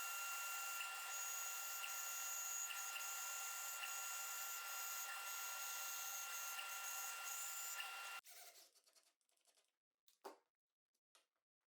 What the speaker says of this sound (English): and cut out the rings in the bandsaw.